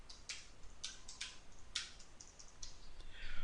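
Quiet typing on a computer keyboard while writing a C program, a run of light, irregular key clicks over faint background hiss.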